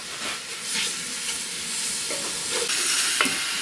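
Caramelized pork with vegetables sizzles and fries in a pan while being stirred, with a steady close hiss and scraping stir strokes, no talk.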